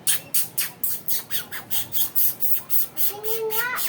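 Harsh bird squawks repeat in a steady rhythm, about three per second, with a rising whistle-like call near the end.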